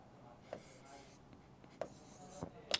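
Pen scratching across paper in a quiet room, a few short soft strokes and taps spaced out over a couple of seconds.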